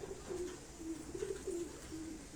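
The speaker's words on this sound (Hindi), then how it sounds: "ये एक और कबूतर आपको दिखा रहे हैं।" Pigeons at a pigeon keeper's shop give a series of soft low cooing calls, about six short coos in a steady rhythm over a constant background hum.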